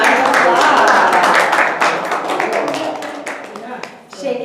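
Workshop audience clapping and cheering together, a dense burst of applause in a room that gradually thins out, with voices calling over it.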